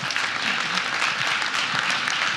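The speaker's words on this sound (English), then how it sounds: "Give Joan a round of applause" Audience applause at a business conference, a steady dense wash of many hands clapping throughout, fairly loud and close, with a voice or two faintly mixed in.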